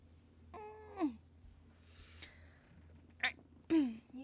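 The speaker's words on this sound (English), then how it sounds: "My cat is going crazy" An agitated cat lets out several loud, drawn-out, wavering meows close by, separated by short pauses, with faint background sound between the cries.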